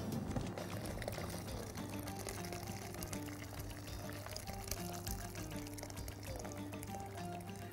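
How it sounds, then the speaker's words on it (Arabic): Water poured steadily into a pot of rice with butter cubes, a continuous rushing, filling stream close by with a low kitchen hum underneath, no talking. "ابتدي بقى احط المية"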